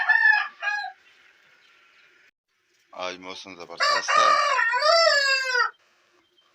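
Roosters in a village yard crow loudly and close, one short call then a long full crow after a pause, with a brief spoken phrase nearby.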